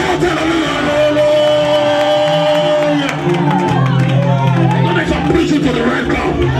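A church congregation shouts and cheers hallelujah, a loud continuous wave of voices, whoops and yells over music, swelling in the second half under an amplified preacher's voice.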